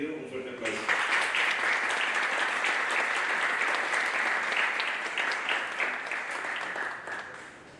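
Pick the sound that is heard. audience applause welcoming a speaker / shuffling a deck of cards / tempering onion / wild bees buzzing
audience applause welcoming a speaker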